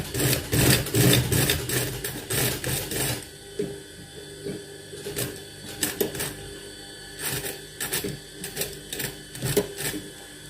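A sewing machine stitches a pocket onto a shirt, its rapid mechanical clatter running loud in steady bursts, then pausing and resuming in shorter runs.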